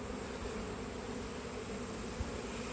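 Honey bees swarm and buzz in a steady, dense drone around an opened hive during a honey harvest, close and continuous with no talk over it.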